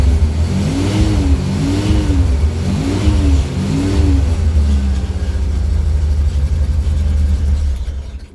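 A Volkswagen Type 2 engine under restoration, not yet properly timed, runs loud and close with a steady low rumble, rising and falling in a few revs early on before settling into a continuous drone, with no talking.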